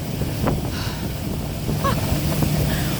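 A boat runs across open water with a steady low engine rumble under heavy wind buffeting and splashing water, a few faint higher sounds breaking through briefly.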